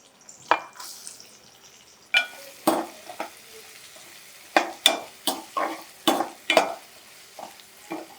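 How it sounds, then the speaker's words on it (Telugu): Onion pieces fry in hot oil for bread-stuffed bajji filling, with a spoon stirring and clinking against the pan in repeated sharp bursts over a soft background sizzle, close by. "నూనె కాగుతుంది మనం ఉల్లిపాయ ముక్కలు వేసేద్దాం"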